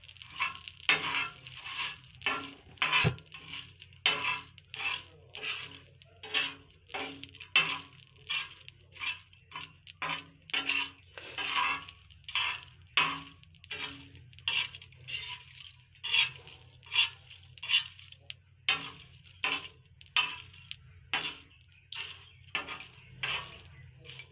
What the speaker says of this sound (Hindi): अब हम इस पे अजवाइन डालेंगे, इसको भी हल्का भून लेंगे।